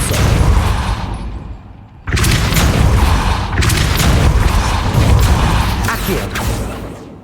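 A Depulso spell goes off in the Hogwarts Legacy video game as a loud magical boom, followed by a sustained rumbling blast with crackling, dense throughout and close.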